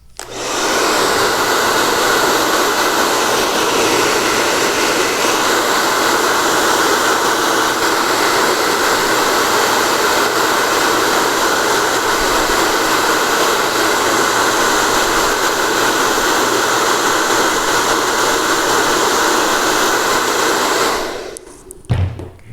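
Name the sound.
hair dryer drying paint on fabric doll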